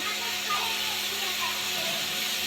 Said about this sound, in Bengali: পেঁয়াজটা একটু অল্প ভেজে নিলাম